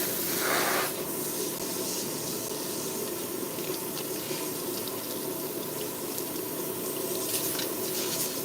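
Water running from a salon sink sprayer to rinse a client's hair, a steady close hiss and splash that stays continuous and fairly loud the whole time with no talk.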